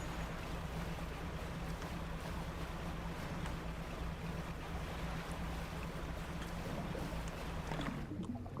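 A sailing boat crossing a sea of cheese and goop in a video game produces a continuous rushing wash of water and wind, steady and fairly loud with no talking.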